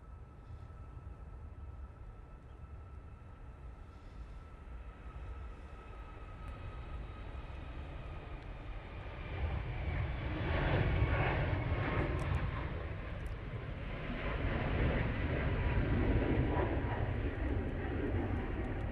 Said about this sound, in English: Tui now on the roll, using the 737 MAX 8.